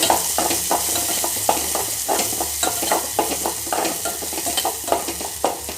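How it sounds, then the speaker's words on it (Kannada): Onions fry in tempering oil while a spoon stirs them in repeated scraping strokes, roughly twice a second, over a constant close sizzle, with no voices. "ಸ್ವಲ್ಪ ಒಗ್ಗರಣೆ ಒಳಗೆ ಫ್ರೈ ಆಗಬೇಕು"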